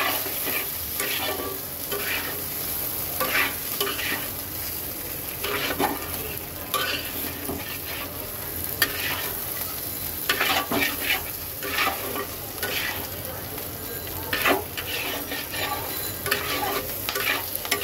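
Green chili and salt are stirred through small hilsa fish with taro in a hot frying pan, giving a steady, close sizzle with repeated scraping strokes of a spoon throughout.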